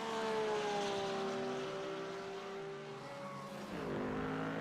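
A Porsche race car engine at an AARS round at COTA drones loudly and steadily up close, its pitch sliding slowly downward before dropping sharply near the end, then rising again.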